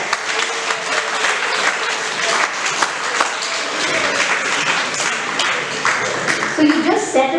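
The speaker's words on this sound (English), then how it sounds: "Clap for yourself." Workshop participants at a professional development session on communication skills and goal setting clap for themselves, a dense, steady round of applause in a room lasting several seconds, with voices mixed in underneath.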